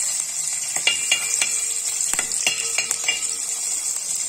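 Garlic fries in oil in a pan for a Kerala okra stir fry, a close bright sizzle with repeated crisp clicks and scrapes of a spoon stirring against the pan.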